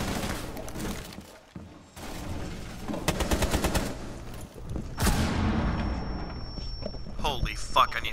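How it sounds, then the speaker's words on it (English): Gunfire in the Rainbow Six Siege video game: rapid automatic bursts and single shots crack in quick clusters, loud and close, with game effects and a voice talking between them. "Let me shoot the hostage twice in the red."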